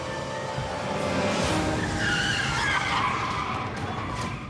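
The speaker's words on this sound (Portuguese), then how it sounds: "Eu senti os pneus escorregando cada vez mais." A car's tires skid across a road where freezing rain is turning to ice, the driver losing control; a continuous, loud squealing slide with the engine roaring underneath holds steady for several seconds.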